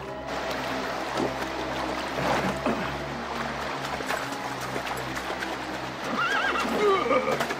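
A horse whinnies with rising, wavering calls toward the end, over steady hoof clip-clop and a low background rumble, with no talk.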